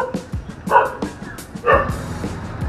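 A dog barks in short yips and bow-wows, several in quick bursts, close and fairly loud.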